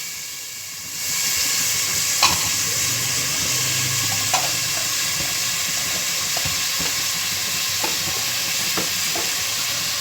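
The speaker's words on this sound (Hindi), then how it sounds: "इनके साबुत गरम मसाला इसमें मैंने डाल दिया" Whole garam masala spices with black pepper, cumin and black cardamom frying in hot oil for chana pulao, a steady bright sizzle that swells in after a quieter start, punctuated by occasional spoon taps against the pot.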